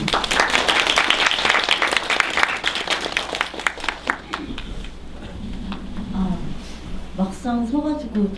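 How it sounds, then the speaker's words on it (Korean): An audience at a science-fiction talk concert applauds to welcome a speaker. The first half is a dense, lively round of clapping that tapers off, and then speech takes over over a quiet room. "여러분 고맙습니다. 박수."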